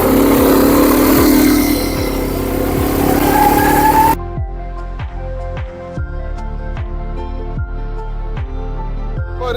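A quad bike on a desert ride revs loudly with rough, wind-buffeted engine noise, then settles into a steadier pulsing idle-to-throttle drone with rhythmic firing beats, close by and without talk.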